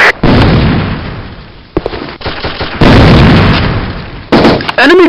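A grenade explodes during an online shooter clan match on the Industry Town map, a loud, close, heavy blast followed by more booming bursts and gunfire, with a voice shouting briefly near the end.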